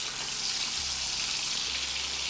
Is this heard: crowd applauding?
no